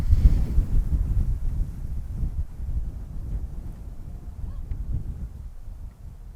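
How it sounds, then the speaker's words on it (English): Gusty wind buffets the microphone with low rumbling thumps, strongest at the start and easing slightly toward the end. "Pausing for wind to pass."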